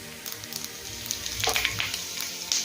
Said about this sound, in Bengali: ফোড়ন ভাজা হয়ে গিয়েছে।